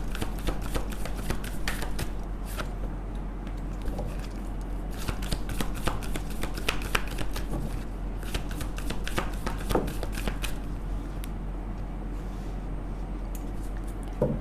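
Tarot cards riffle and slide in rapid, close, crisp bursts of shuffling, continuing steadily with no talk over them.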